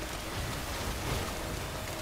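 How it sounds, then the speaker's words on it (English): Steady rain hissing in the video game Death Stranding, a dense even patter holding at constant level for a couple of seconds with no voices. "Yeah, it's raining."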